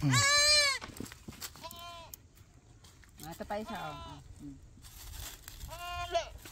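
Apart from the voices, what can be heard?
goats bleating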